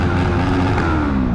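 A car engine revving while driving over a bridge on a night ride, a loud close steady engine roar with rising pitch, no talk over it.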